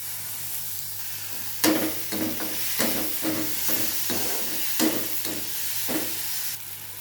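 Ginger garlic paste and chopped tomato fry in a pan with a steady close sizzle, broken by repeated scraping and tapping strokes of a stirring spoon, and no one talks.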